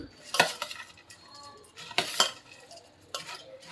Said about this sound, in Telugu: పెద్ద స్పూన్తో అయితే కలపాలి